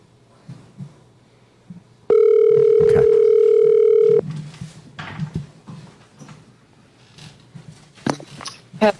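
A telephone dial tone plays during a call: a loud, steady, unbroken tone lasting about two seconds, then it cuts off and leaves quiet room noise with faint movement.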